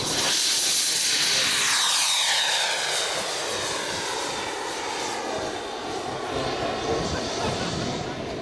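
A radio-controlled model jet aircraft roars past at a jet demonstration, its loud turbine whine and hiss sweeping down in pitch as it passes close and then holds a steady, slightly receding rush.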